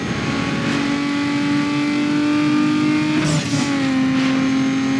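A car engine revs hard and steady in the Need For Speed Underground 2 racing game, a loud sustained drone with a brief pitch dip and shift partway through, no voices.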